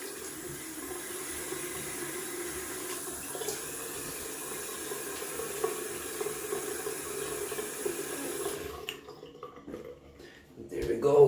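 A running tap rinses slick shaving soap away after a safety-razor shave, water splashing steadily into a sink. The flow briefly drops near the end, then surges louder.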